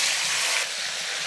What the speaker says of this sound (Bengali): এবারে এই তেলেই আমি এঁচোড়টা ভেজে নেব।